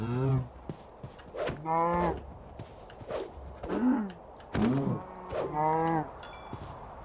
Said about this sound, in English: Like, maybe we just kill one of these cows right now for some meat.